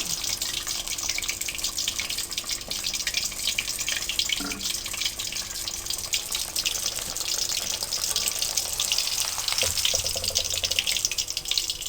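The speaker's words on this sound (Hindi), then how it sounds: "इसलिए हल्की आंच पे आपने इसको फ्राई करना है।" Fish pieces frying in oil over a low flame, a steady, dense crackling sizzle heard close up without talk.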